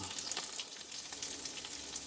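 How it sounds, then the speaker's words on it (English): Rotisserie chicken meat sizzles and crackles steadily in a hot pan for fried rice, a close, even frying hiss with small pops throughout. "we're just adding all this meat in here and frying it up"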